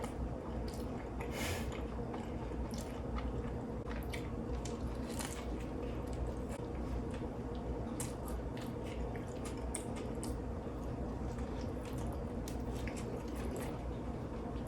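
Soft, close chewing and squishy bites of a homemade taco dressed with Taco Bell sauce, a continuous quiet run of wet mouth sounds with faint crunches and no voices.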